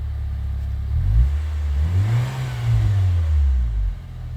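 A 2016 Nissan Juke Nismo RS 1.6 DIG-T engine runs close by, its raspy exhaust note rising and falling as it's revved a couple of times from a rough idle.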